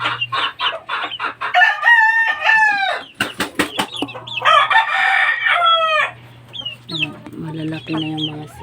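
Fighting-breed chickens and growing chicks clucking and peeping in quick bursts, with a rooster crowing and brief wing flaps, close and fairly loud over a low steady hum.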